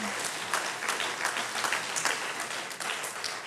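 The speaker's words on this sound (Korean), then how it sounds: "우리 박수로 한번 격려합시다" Church congregation applauding teenagers at a Friday prayer service in Daegu, a steady wash of many hands clapping at moderate level throughout.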